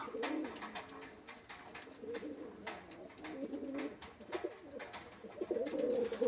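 Pigeons being sold in pairs coo repeatedly in a loose, overlapping rhythm, several birds calling close by with occasional wing flutters and no talk.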